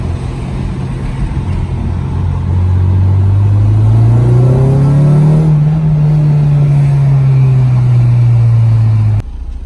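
A car engine drones loudly, then revs up with a rising, sustained roar before easing off and cutting out abruptly.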